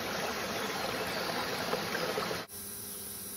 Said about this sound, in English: It's bubbling